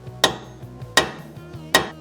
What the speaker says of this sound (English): I just hit it with a hammer, like pretty hard.